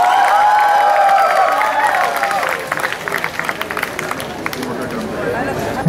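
A crowd claps and cheers loudly throughout at a DA-IICT event as performers are welcomed on stage, a dense wash of applause with some chatter mixed in.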